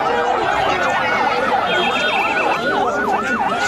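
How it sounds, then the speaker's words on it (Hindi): Wailing ambulance sirens sweep up and down repeatedly, loud and continuous, after a suicide bombing at Friday prayers in Islamabad, Pakistan, with a second higher siren tone joining partway through over traffic rumble. "लगातार एम्बुलेंसेस के सायरन का शोर आप सुन रहे हैं"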